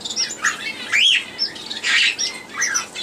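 An older American parakeet in the middle of laying an egg gives a run of sharp chirps, squawks and rising tweets, close and fairly loud with short pauses in between and no talking.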